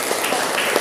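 A vocational school class breaks into dense, continuous applause for their classmates, a close and steady wash of clapping with no pauses.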